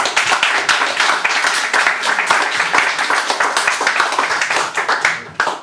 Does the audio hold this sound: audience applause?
yes